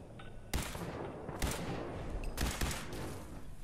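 Gunfire in the Fallout 4 video game during a house shootout: several loud broadband gunshot bursts at irregular intervals, each cracking sharply and decaying, over a steady noisy background with no talking.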